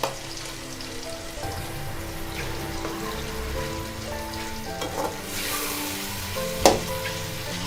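Ginger garlic paste, green chilli and tomato paste sizzle in hot oil for a Pakistani beef masala kaleji, with a steady close frying hiss, soft stirring and a sharp utensil clack near the end. No one talks.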